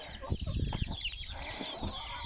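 Young chickens cluck softly while pecking at food outdoors, with brief close clucks and scratchy rustles among a steady background of outdoor noise.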